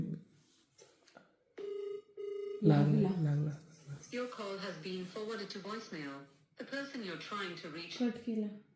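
An outgoing phone call rings with a steady electronic ringback tone lasting about a second, heard close and clear after a short blip. A voice then speaks at length over the line, with brief pauses between phrases.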